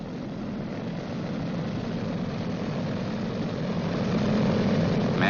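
Propeller engines of a Boeing B-29 Superfortress run up one at a time, a loud steady droning roar that builds slightly in intensity over the whole stretch.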